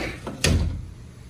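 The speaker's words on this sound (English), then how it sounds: "So let me open this sliding glass door." Sliding glass door at a resort room in Cabo San Lucas, Mexico, opening onto a patio: a short rumbling slide with a brief thud near the start, then a fading rattle, heard alone.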